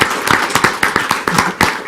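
A small group of attendees at a school board meeting gives a short, loud round of applause, with distinct, slightly uneven claps close by.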